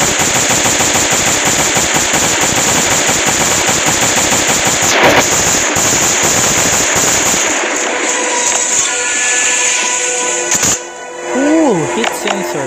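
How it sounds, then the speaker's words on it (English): Rapid automatic gunfire from an AK or M16 in the survival video game Last Day on Earth crackles loudly and continuously, then tapers into scattered shots and game sounds near the end. "Now I'm going to kill this one with AK or"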